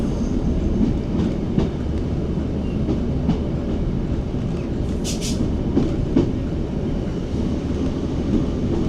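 A train rumbles steadily along the rails from Glasgow Central as it approaches East Kilbride, with occasional clicks and a brief high squeal, no voices.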